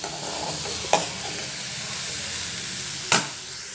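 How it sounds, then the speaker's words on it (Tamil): Boiled beans being sautéed and stirred in a pan for beans poriyal give a steady soft sizzle, with two sharp scrapes of a spoon against the pan, near and without speech. "போட்டு நல்லா கலந்து விட்டுக்கலாம். ரெண்டு நிமிஷம் நல்லா வதக்கிக்கலாம்."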